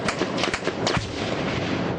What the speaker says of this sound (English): Gunfire and rocket-propelled grenades set the outpost on fire.